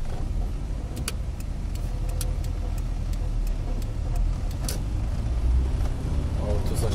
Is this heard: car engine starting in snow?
yes